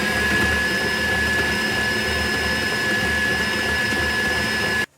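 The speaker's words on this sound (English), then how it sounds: "Add 1 to 2 tablespoons of milk if needed to loosen the buttercream. Beat until smooth." An electric mixer beats buttercream loosened with a splash of milk until smooth, a steady, close motor whir with a constant high tone that runs unbroken for several seconds and then cuts off abruptly.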